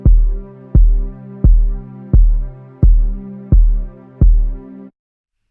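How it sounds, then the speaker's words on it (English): Sidechain compression pumping a sustained tone, which swells back after each sharp kick-like hit ducks it; seven regular pulses in a steady beat, loud and close, then a sudden cutoff into silence. "it's already ducking the signal"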